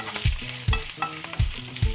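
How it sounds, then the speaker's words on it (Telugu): Ginger for chutney frying in a pan sizzles steadily while a spatula stirs it in regular scraping strokes, roughly twice a second, close and clear. "కాసేపు అల్లం కూడా పచ్చివాసన పోయే వరకు ఒక్కసారి వేయించి స్టవ్ ఆఫ్ చేసేసి ఒక ప్లేట్లోకి తీసేసుకోవాలండి"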